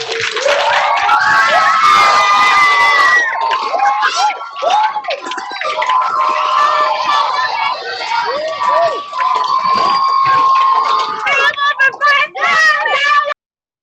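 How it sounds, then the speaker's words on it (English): An online audience, unmuted all at once, claps and cheers for a Hall of Fame football honoree. It comes as a loud, dense crowd of overlapping whoops and shouts that runs throughout with little letup. "we give Mr. McDaniel one last big Hall of Fame round of applause"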